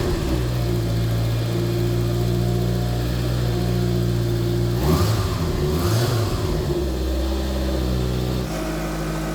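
A Mitsubishi Eclipse GSX fitted with a green turbo revs hard close by, a steady engine drone rising through two sharp throttle blips before settling back, with no talk over it.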